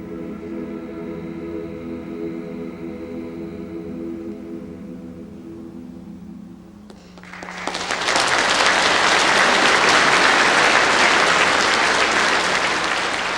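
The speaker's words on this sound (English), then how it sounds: "The warm applause expresses approval as well as musical enjoyment." Concert audience applauding a choir. A sustained choral chord rings out and fades, then loud, dense clapping bursts in and continues strongly to the end.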